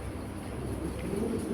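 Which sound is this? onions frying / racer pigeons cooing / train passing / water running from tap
racer pigeons cooing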